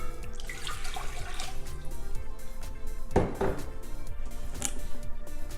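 Lukewarm water runs into a bowl for bread dough as a steady splashing pour, with a few light clinks of a container part way through.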